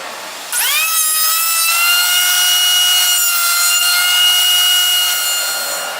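A thickness planer feeds a wooden board through, a loud sustained whine with rising harmonic tones starting abruptly after half a second and holding steady to the end, no talking.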